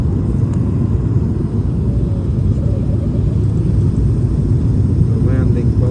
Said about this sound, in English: we are gonna land pretty much right now